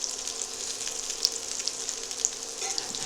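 Chicken and cheese meatballs cooking in a pan, with a steady soft bubbling sizzle and a few faint clicks, heard close and alone without talk.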